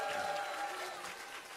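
Church audience at an evening tenor worship concert applauding, a brief, fairly faint wash of steady clapping from the crowd.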